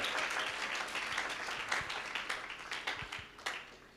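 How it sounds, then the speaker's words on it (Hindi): Audience applause fills a sermon hall, a dense, steady clapping from a large crowd that holds throughout with a few sharper individual claps standing out near the end. "ये जो ताली आपने बजाई थी"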